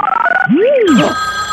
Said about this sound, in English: One ring. That's the telephone.